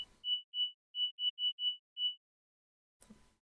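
A synthesized blackbird song, still a rough early version, made of seven short steady electronic whistle tones in a quick row, followed by a brief burst of noise after a pause.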